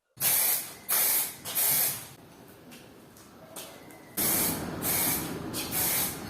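An aerosol can sprays disinfectant in loud, close hissing bursts: three short blasts, a quieter lull, then a longer spray with pulsing surges.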